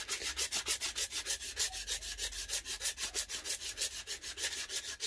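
Sandpaper fixed with double-sided tape to a wooden dowel, rubbed by hand to shape a wooden slingshot, a steady back-and-forth rasp repeating about five times a second, close and even, with no talk.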